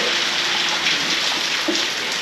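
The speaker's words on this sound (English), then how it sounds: "It's raining" Steady hiss of rain falling on surfaces, close and continuous, with no talking.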